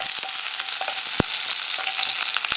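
Curry leaves and spices sizzle in a hot pan while being stirred, a dense steady crackle close up with a few sharp utensil taps against the pan.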